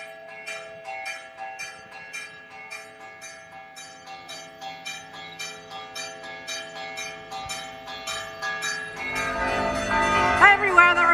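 Church bells peal across Piazza del Duomo in Catania at noon, a dense ringing with steady repeated strikes that grows louder and fuller toward the end, alone without talk.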